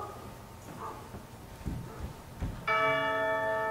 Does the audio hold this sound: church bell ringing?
yes